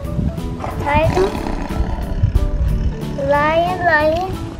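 A recorded lion roar plays loudly from a toy during a children's Easter egg hunt, repeated growling bellows with rising, wavering tones, while a child and an adult talk over it.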